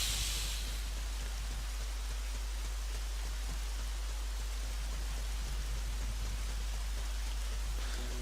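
Rain falling at Lake Hylia in Zelda: Ocarina of Time, a constant soft hiss of steady rainfall with a low background rumble, uninterrupted and fairly quiet throughout.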